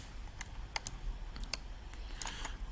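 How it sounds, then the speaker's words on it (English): Computer keyboard keys clicking in short irregular bursts, a handful of quick close taps with small pauses between them, quiet room, no talking. "you type the balance"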